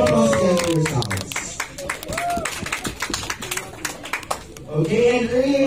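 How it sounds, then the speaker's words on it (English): An audience gives a round of applause at a customer experience day celebration, with scattered claps and cheering from the crowd that swell around a spoken voice and then settle. "a round of applause again for yourselves"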